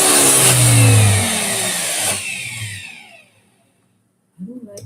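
Borosino electric balloon pump running loudly with a steady motor whine for about three seconds, then winding down and cutting off into silence before a brief sound at the end.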